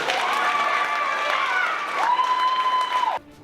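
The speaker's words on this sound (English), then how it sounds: "let's give them a big round of applause." Audience applause and cheering for athletes signing national letters of intent, a steady crowd clapping with a sustained tonal whine running under it before it drops off abruptly at the end.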